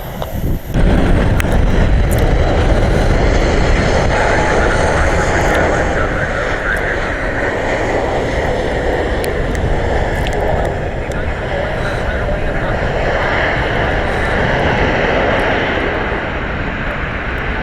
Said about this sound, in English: That jet's heading out.